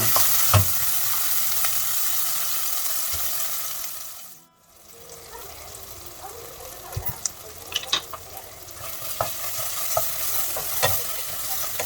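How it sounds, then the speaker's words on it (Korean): Onions and tomatoes stir-fried in a pan for a tofu spinach curry, a steady close sizzle with frequent scraping stirs and clinks of a utensil, briefly dipping quiet midway before resuming. "양파와 토마토 안 타게 잘 볶아주시면 됩니다"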